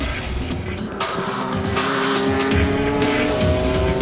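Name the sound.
Esso Toyota Supra race car slowing with damaged tire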